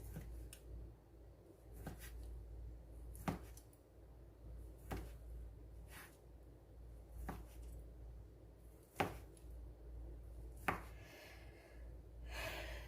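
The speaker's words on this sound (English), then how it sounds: "And then just slice like this." A knife slices through beef salami sausage on a cutting board in a quiet kitchen, with evenly spaced sharp cuts about every second or two, fairly close and crisp, and no talking.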